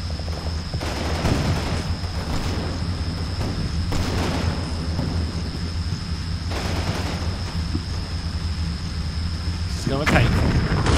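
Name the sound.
tanks firing shells in Combat Mission Red Thunder video game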